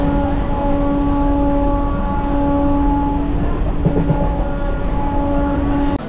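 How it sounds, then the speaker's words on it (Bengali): A passenger train pulls out of Janai Road station on the Howrah–Purulia line via Mashagram, heard from on board as a loud, steady rumble with sustained droning tones from start to finish and no voices. "জনাই রোড থেকে ছেড়ে দিল এখন আমাদের ট্রেন"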